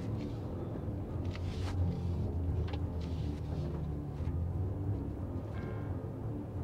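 A maxed-out Ram 1500 pickup towing a heavy load uphill at full throttle, engine straining at low speed with a steady, loud, deep rumble and drone throughout.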